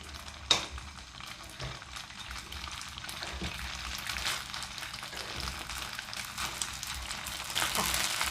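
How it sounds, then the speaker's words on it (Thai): Thai radish cake fries and is stir-fried in a thin coat of oil, a continuous close sizzle with occasional clinks and scraping, growing slightly louder toward the end. "เดี๋ยวเรานำไปทอดแล้วก็ผัดกันนะคะ"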